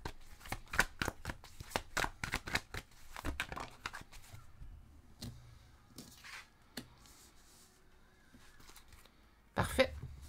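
Tarot or oracle cards being shuffled and drawn for a card reading, with quick riffling flutters at the start, softer slides and taps later, and a throat clear near the end, close and quiet.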